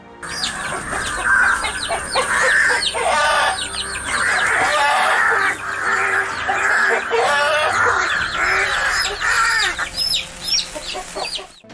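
A mother hen clucking repeatedly on a farm, loud and close, with rapid rhythmic clucks and some rooster-like calls over a steady stretch, joined by other fowl, with no one talking.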